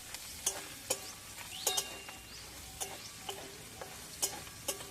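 Prawns frying lightly in a pan for a Bengali jackfruit-and-prawn curry, giving a soft steady sizzle broken by sharp intermittent spatula clicks and scrapes against the pan, close and alone with no voices.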